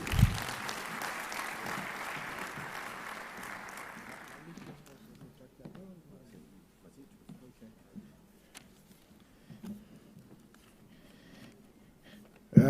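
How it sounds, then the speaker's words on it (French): Attendees at the closing ceremony of an international investment forum in Senegal applaud in a hall. The clapping fills the first four seconds and then fades, leaving quieter room sounds, scattered noises and speech afterward. "je vais demander au directeur général de l'APIX, M. Abdoulaye Baldé, à venir prononcer son allocution sous vos applaudissements, mesdames et messieurs"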